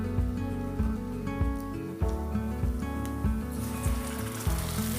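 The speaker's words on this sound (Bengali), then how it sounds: "পেঁয়াজগুলোকে লাল লাল করে ভেজে তারপর আমি মশলাটা দেব" Onions fry in oil in a pan for a Bengali chicken dish, a continuous moderate sizzle with a repeating rhythm of soft bubbling pops, close and unaccompanied by voices.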